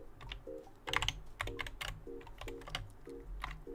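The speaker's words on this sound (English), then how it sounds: "you will hear the chair and the keyboard and the mouse" Computer keyboard typing picked up by a sensitive desk microphone during a game-environment development stream, a steady run of quick close key clicks with a faint background hum and no talking.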